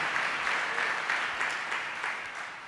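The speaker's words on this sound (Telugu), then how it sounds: "గట్టిగా చప్పట్లు కొట్టాలి" A church congregation clapping together loudly during a worship service, a continuous, even wash of many hands lasting a few seconds, fairly distant and roomy, with no voices standing out.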